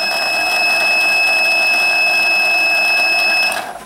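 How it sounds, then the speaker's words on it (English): A Science Time electrical alarm kit, a small build-it-yourself electronic alarm, emits a steady, loud continuous electronic tone with sharp high harmonics for nearly four seconds, then cuts off abruptly. "this one is the electrical alarm by Science Time"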